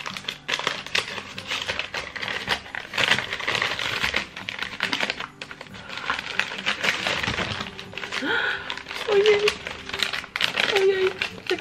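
A gift package is opened, with wrapping crinkling and rustling in bursts up close while a person talks throughout.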